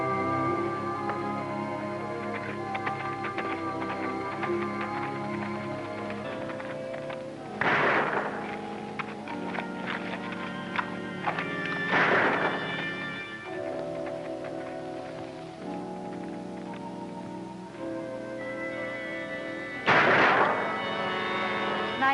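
Three sharp gunshots ring out at about eight, twelve and twenty seconds during outdoor pistol shooting practice, each a loud broadband crack standing out over a steady bed of orchestral music.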